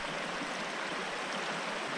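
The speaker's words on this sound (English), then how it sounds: "Have to figure out what the name of this creek is." Water of Dry Haven Creek flows in a steady, full rushing hiss, close by and continuous, with no voices.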